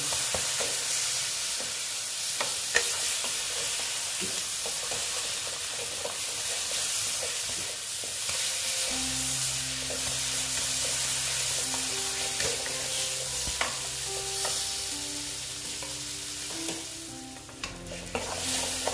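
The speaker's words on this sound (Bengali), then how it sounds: "একটু আস্তে আস্তে ভালো মতন কষিয়ে নিই" Spices for an egg and potato curry fry and sizzle in a pan with steady close stirring and scraping, the hiss continuing throughout as the mixture is worked slowly.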